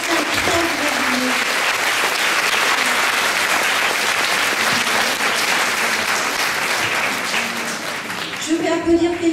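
An audience at a thank-you gathering gives sustained, full applause that holds steady for several seconds and thins out near the end, where a voice begins speaking.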